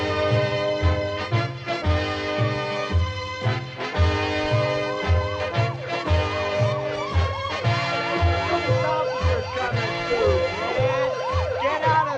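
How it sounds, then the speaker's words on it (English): A police siren wails with repeated rising and falling tones over a steady thumping beat, loud and continuous throughout. "Can't you hear the siren"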